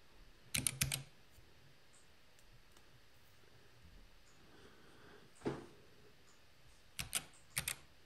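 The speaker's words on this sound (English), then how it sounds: "Most of the keys are typed by hitting multiple keys at the same time, essentially chording them." Keys on a Chordie chord keyboard are pressed several at a time, giving short clustered bursts of clacking key clicks separated by quiet pauses in a still room.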